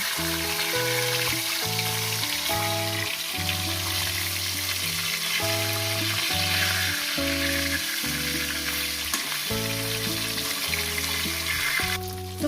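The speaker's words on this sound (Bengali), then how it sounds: "মাছগুলো আমার এক সাইড করে হয়ে গেছে আমি অপর সাইডটা উল্টিয়ে দেবো" Four pieces of fish fry in a pan of oil for a fish curry with vegetables, giving a steady broadband sizzle that runs throughout beneath loud background music.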